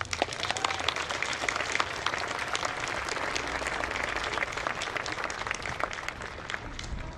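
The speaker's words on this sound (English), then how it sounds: "Please join me in a round of applause for the Thread City Brass Quintet." At a college commencement ceremony, an audience applauds the brass quintet with loud, dense clapping that holds steady for about seven seconds, close and continuous with no talk over it.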